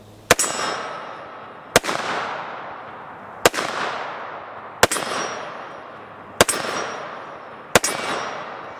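Desert Eagle .50 AE handgun firing six loud, sharp shots about one and a half seconds apart, each with a long ringing decay, no talking.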